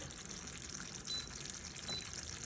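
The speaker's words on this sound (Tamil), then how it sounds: "நல்லா கொதிச்சு கொண்டு இருக்கு" A Jaffna-style liver curry boiling in a pot makes a faint, continuous bubbling and gurgling, steady throughout with no talk.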